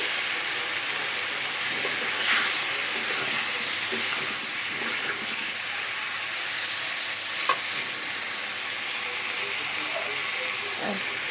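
Potatoes going into a tomato curry in a hot pan, a continuous bright sizzle and frying hiss with occasional soft scrapes and clicks of stirring, steady and fairly loud, no voices.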